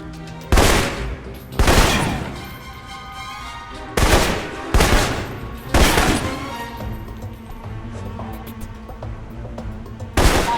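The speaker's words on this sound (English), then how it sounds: "For long-range encounters, the assault rifle's the key." Assault rifle shots in the 2010 video game Alpha Protocol: loud, sharp single reports spaced a second or two apart, each with a ringing echo tail, over a low ambient hum.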